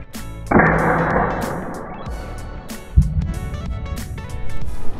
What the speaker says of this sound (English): 30 grain javelin hits this one center mass, resulting in a very satisfying pop